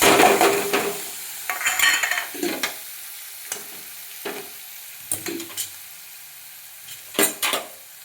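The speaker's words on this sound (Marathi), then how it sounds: "आपण हलवून घेऊया, एकजीव करूया. चांगलं खरपूस तळून द्यायचं." Ridge gourd chutney masala with curry leaves and turmeric frying in a pan, soft sizzling broken by intermittent stirring scrapes and clinks of the spoon, close and fairly quiet.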